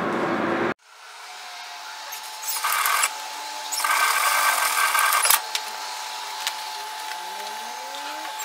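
A domestic sewing machine stitching a French seam on fabric. It starts with a brief loud burst, then gives a steady close whirring run that rises and falls in speed for several seconds, with no talk.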